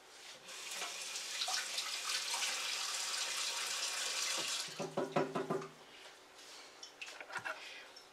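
Running tap water splashing into a sink as a seedless cucumber is rinsed, a steady close gush that breaks into uneven splashes and drips near the end.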